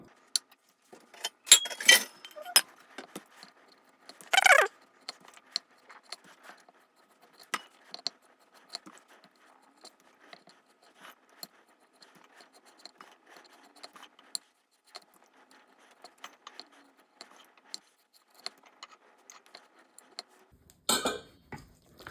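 Repeated knife cuts scoring raw chicken and light scraping on a cutting board, a string of sharp taps and clicks spread irregularly over the stretch, close by with no talk.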